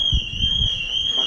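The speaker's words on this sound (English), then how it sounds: "We set an alarm off." A building alarm sounds inside a waterpark, a loud steady high-pitched electronic tone holding without a break, with low thumps and movement beneath it.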